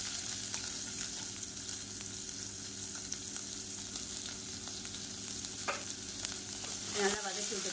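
Sliced onions sauté in sesame oil in a cooker, giving a steady close sizzle with occasional stirring scrapes near the end.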